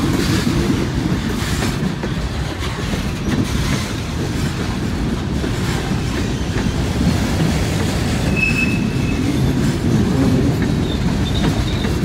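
A freight train hauling boxcars rolls past a crossing on the B&O line, loud and close, with continuous rumbling, rhythmic wheel clatter and intermittent high wheel squeals.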